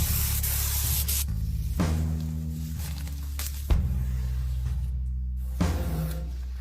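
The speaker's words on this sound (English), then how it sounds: "Then spray the clear coat." A spray gun lays clear coat on a Suzuki GSX-R750 fuel tank in several hissing bursts, loud and close, separated by short pauses and accompanied by a low compressor hum.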